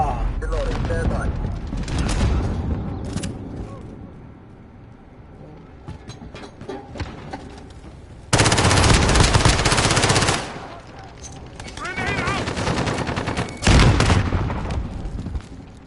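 Bursts of automatic gunfire from Call of Duty: Modern Warfare, two loud sustained volleys and a shorter one among scattered shots, with in-game radio voices talking between them.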